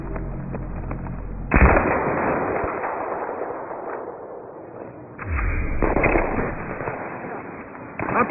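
Incoming fire and explosions in Battlefield 3, with heavy blasts and crackling shots over a dense, continuous battle rumble and two sharp, loud impacts.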